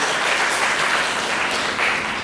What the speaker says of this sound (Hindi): पूरी डीएलएसए टीम के लिए जोरदार तालियां